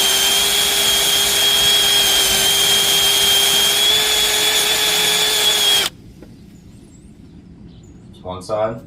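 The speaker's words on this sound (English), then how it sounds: "I'm gonna go ahead and get my drill, my wire wheel, and I'm gonna get this all cleaned up real good." A power drill fitted with a wire wheel scrubs rust off rear brake slide pins, giving a loud, steady, high-pitched whine. After about six seconds it stops abruptly, leaving quiet with brief faint noises.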